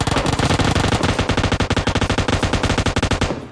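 Sustained automatic bursts from an M249 machine gun in PUBG Mobile Lite, a loud, rapid, evenly spaced stream of shots running almost unbroken for several seconds.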